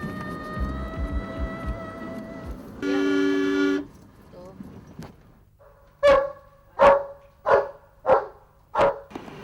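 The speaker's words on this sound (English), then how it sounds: "Dogs are very affectionate." A dog barks five times in an even rhythm, loud and close, after a stretch of background sound with a brief horn-like tone.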